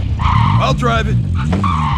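A vehicle driving and skidding in Call of Duty Warzone, its engine running while tires squeal through a slide, with an in-game voice talking over part of it.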